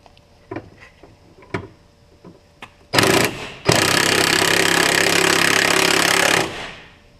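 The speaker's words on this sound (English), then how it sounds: "let's tighten up the last bolt" A power tool drives the last bolt on a receiver hitch under a Jeep Grand Cherokee, loud sustained buzzing bursts after a few light metallic clicks and knocks, with a short pause between the two runs.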